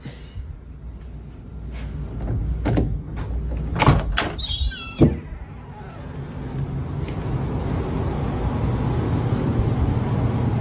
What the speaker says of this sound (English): I'm gonna open this door and it's gonna stop.